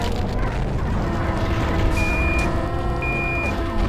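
Vehicle reversing beeps in a driving video game, two steady electronic tones about half a second each, spaced about a second apart, over a constant loud engine rumble with no talk.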